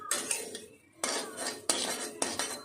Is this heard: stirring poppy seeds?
yes